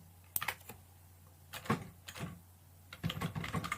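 Quiet bursts of computer keyboard typing as code is entered, in three short clusters of rapid clicks separated by pauses, close to the microphone.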